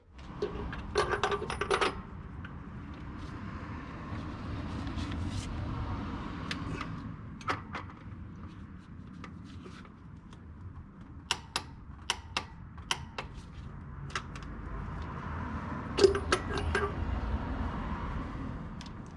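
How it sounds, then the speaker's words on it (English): Ratchet tightening the high-pressure oil pump bolt on a 7.3 Powerstroke diesel engine to 35 foot-pounds, heard as sparse, crisp metallic clicks that come in short runs over a low workshop hum. "So I'm going to go ahead and do that and torque this down to 35 foot-pounds."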